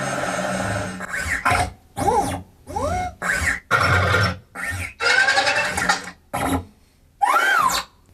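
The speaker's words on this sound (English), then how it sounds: "Here's adding the movement of BB-8." Star Wars BB-8 droid movement effect: a string of short chirping, whirring bursts with rising and falling warbles and a squeal, separated by brief silences, close and fairly loud.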